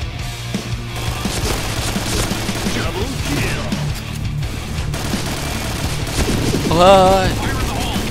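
Rapid automatic fire from an AUG A3 rifle in the shooter game Point Blank, sustained bursts over busy game sounds while a man exclaims partway through.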